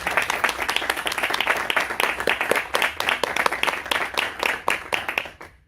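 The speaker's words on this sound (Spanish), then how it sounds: "un fuerte aplauso y bienvenido, Ernesto." Audience applause at a book presentation in a university hall, steady dense clapping from a sizeable crowd that thins into scattered claps before stopping abruptly.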